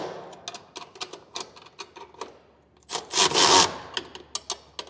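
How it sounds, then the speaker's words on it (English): A half-inch wrench and socket snugging bolts on Gen-Y hitch running board brackets of a 2017 Ford F-150, giving a run of sharp ratcheting clicks and metal scrapes with a louder grinding burst midway. "Now to get these snug down, you're going to need a box end or open end wrench, a 1/2 inch, and as well as a 1/2 inch socket."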